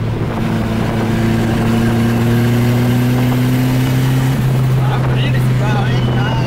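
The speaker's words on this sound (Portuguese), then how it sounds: "Vai a quinta e acelera," A car engine drones loudly from inside the cabin, holding a steady high pitch before the tone drops at a gear change into fifth and keeps pulling, with road and wind noise beneath.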